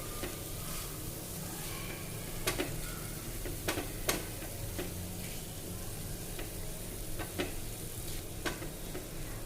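A spoon stirs cluster bean (gavar) curry in a pan, with a soft continuous sizzle broken by scattered light clicks and taps of the utensil against the metal.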